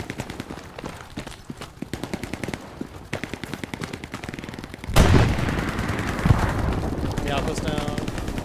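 Machine gun fire in a multiplayer war video game crackles in rapid, regular bursts, then a loud explosion hits midway and is followed by rumbling and more scattered fire, with voices talking over it.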